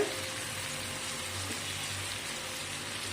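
Butter simmering in a pan to render homemade ghee, giving a steady soft sizzle and bubbling hiss that holds even throughout, close and moderately quiet, with no voices.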